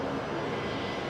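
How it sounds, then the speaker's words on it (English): A Qantas Link airliner, flight 1924 in from Hobart, rolls along the runway at Brisbane International with a steady broadband engine roar heard from a distance, continuous and even. "So that's Qantas Link 1924 coming in from Hobart there, just departing the runway."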